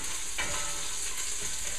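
Homemade Bolognese sauce with pancetta simmers in a pan, giving a steady, close, hissing sizzle, with a brief stirring scrape near the start.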